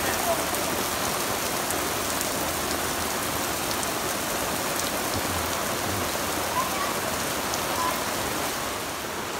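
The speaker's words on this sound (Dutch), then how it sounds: "Het regent nog wat harder." Heavy rain pours steadily in Wernigerode in the Harz, a dense, unbroken patter drumming on surfaces close by, with faint scattered knocks and no speech.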